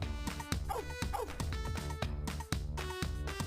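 A video game dog barks and yips in quick repeated bursts over a steady musical backing, each bark sharp and fairly close.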